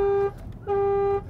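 A Volkswagen ID.3 electric car horn sounds two short, bright, nasal toots with a brief gap between them, close and loud.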